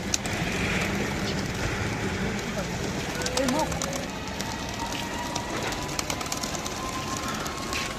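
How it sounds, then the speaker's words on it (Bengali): Released racing pigeons moving about outdoors at dawn, soft cooing and wing sounds over steady ambient noise with continuous talking nearby. "তো যে মাশাল্লাহ সব কবুতর যে ছেড়ে দিয়েছি"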